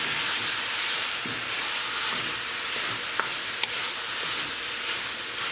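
Ground beef fries over high heat and is stirred and broken up in a pan, giving a constant hissing sizzle with a couple of faint knocks.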